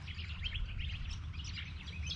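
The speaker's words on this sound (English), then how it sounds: "Waking up to the birds" Morning birdsong at a quiet coastal campsite on Moreton Island, with several bright chirping calls repeating in quick bursts over a low, soft background hum, fairly faint and without voices.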